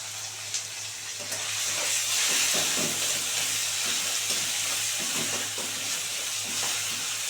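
Tomato fries with salt and turmeric in a pan, giving a continuous sizzle with steamy hiss and repeated stirring scrapes at close range, with no talking.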